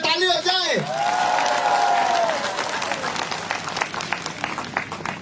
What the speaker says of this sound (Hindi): ACF के लिए जोर से ताली हो जाए।